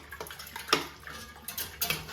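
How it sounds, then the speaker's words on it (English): A spoon stirring mango pale ale wort from an all-grain no-boil kit: soft watery swishes and light clinks against the vessel, repeating at an even pace, close by. "we're going to try and get our spoon in, and we're going to give it a little stir"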